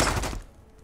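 A short burst of enemy gunfire in the survival video game Mist Survival, a few quick muffled reports that fade out within a second, moderately loud.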